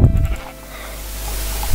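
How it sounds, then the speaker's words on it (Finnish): Sheep bleat in Minecraft, a drawn-out wavering bleat over steady game background noise, moderately loud and close with no talking. "Hei, kato lampaita."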